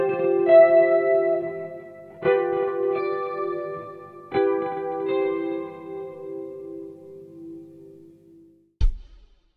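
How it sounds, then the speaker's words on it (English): Electric guitar voices chords across a 2-5-1 progression, three lush sustained chords struck in turn and left to ring with echo, ending on a short low thump. "in a 2-5-1 kind of context, it can sound something like this"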